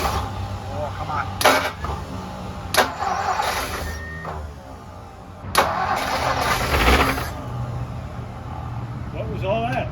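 A 1956 Thunderbird engine cranks in several labored bursts that falter and stop, a possible stuck valve, with loud mechanical noise between pauses and people talking nearby.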